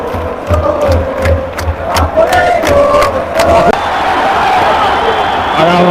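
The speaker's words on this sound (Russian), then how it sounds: "горячие трибуны, горячие болельщики" Football fans in the stands of Valencia's Mestalla stadium chant and roar together in loud rhythmic bursts, followed by a sustained wash of crowd noise, with talk mixed in.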